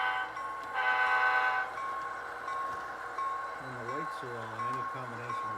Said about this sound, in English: this same train passes through Everett's Bayside yard on its way back to